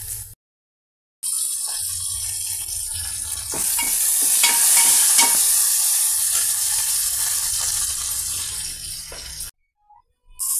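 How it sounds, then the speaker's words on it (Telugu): Whole spices tempering in hot oil in a pan for Andhra pappu charu give a loud, dense sizzle with scattered stirring clicks. The sizzle builds after a quiet start and cuts off near the end. "ఈ విధంగా మన పోపు మసాలా ఫ్రై అవుతుందండి"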